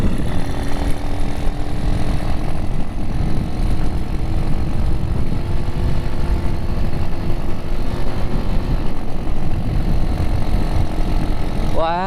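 An old classic trail motorcycle engine runs steadily and loudly throughout, with a rough, knocking, underpowered note and a constant rumble close by, as on a group morning ride.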